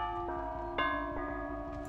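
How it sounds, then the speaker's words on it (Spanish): The Wraith's bell in Dead by Daylight, a sustained ringing tone with bright overtones, struck again partway through and left to hang, close and steady with no speech. "Ah, que tengo que tocar la campana aquí."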